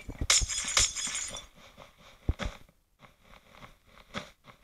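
Glass blocks break in the Minecraft video game during a parkour run, several sharp crunching, clinking bursts in quick succession, the loudest early on, then lighter cracks scattered through the rest.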